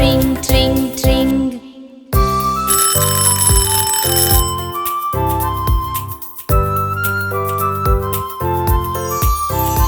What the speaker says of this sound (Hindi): मुझे घंटी ने जगाया, बोला ट्रिंग ट्रिंग ट्रिंग।